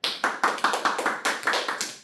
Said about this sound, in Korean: 박수 치고 넘어가요